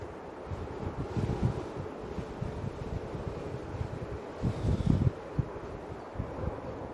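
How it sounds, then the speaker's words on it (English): Strong gusty wind at Manchester Airport buffets the microphone, with rumbling low gusts that swell and fade, louder in bursts, and no talk. "It's definitely got windier in the last 30 minutes, Darren."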